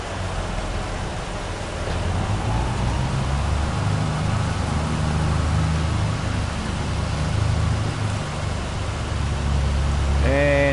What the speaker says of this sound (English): And the rain starts.